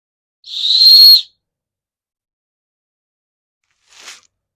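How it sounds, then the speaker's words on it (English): A shrill, steady toy whistle blast lasting under a second, then a brief faint toot a few seconds later, with silence between. "It's a shitty whistle."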